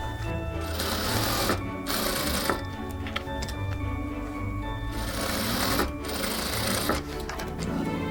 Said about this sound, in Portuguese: vou juntar direito com direito, as duas metades, e vou passar uma costura reta aqui